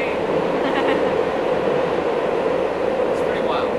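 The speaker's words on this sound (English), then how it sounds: "After 10 minutes in Chicago, trains." A train passes through Chicago as steady, loud broadband rumble and rail noise fills the whole stretch without letup, up close and unbroken.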